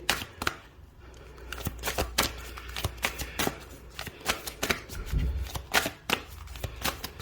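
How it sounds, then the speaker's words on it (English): A tarot deck is shuffled by hand in quick, crisp riffles, a steady train of sharp card slaps and flutters, close and fairly quiet, with no talking. "I'm going to pull some cards to see what is shifting for you."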